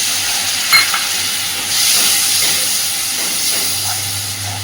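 Spice masala sautés in a pan with a little water added, giving a steady hissing sizzle with a brief clink of the spoon and soft stirring scrapes throughout.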